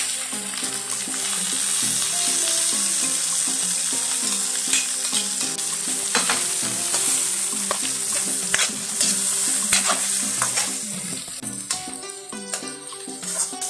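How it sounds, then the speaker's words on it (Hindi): Onions, tomatoes and green chillies sizzle steadily in a hot pan, a dense continuous frying hiss broken by frequent scraping and clinking stirs, close and loud, heard without talk. "अभी प्याज हो चुके हैं, हल्के से फ्राई मैंने कर ली है"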